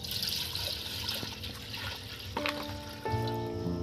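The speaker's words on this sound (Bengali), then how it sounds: "এবার এর মধ্যে আমি জল দিয়ে দিচ্ছি বন্ধুরা" Water is poured into a pan of raw mango egg curry on the stove, with a soft, close trickle and splash, then a few brief clinks and a faint hum near the end.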